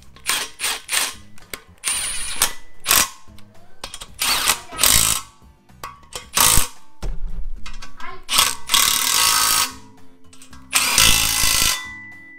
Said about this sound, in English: Now we'll get the smaller bolts tightened up.